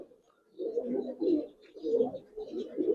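Giribaz and coloured pigeons coo close by in soft, throaty rolling bursts, three or four swelling phrases in a row with brief pauses, and no voices.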